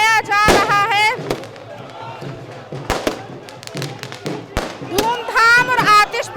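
Firework bangs crackle during a street celebration of a BJP election victory outside a party office in Lucknow, sharp bursts scattered through the clip beneath loud chanting and shouting voices.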